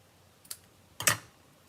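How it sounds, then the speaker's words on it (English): Ribbon scissors snip twice in a quiet room while a greeting card is made: a small click, then a louder crisp cut about half a second later. "Ribbon scissors."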